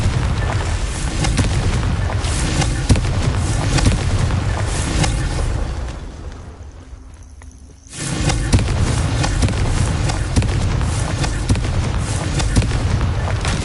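Confringo blasting spell in Hogwarts Legacy, a loud continuous barrage of booming explosions and crackling impacts with a brief lull in the middle before the roaring blasts resume.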